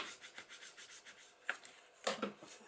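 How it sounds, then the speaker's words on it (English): Small metal brad being burnished flat onto a junk journal page, heard as steady close rubbing strokes with a few sharper scrapes and taps near the end, no voices. "now I'm going to just burnish it down with my"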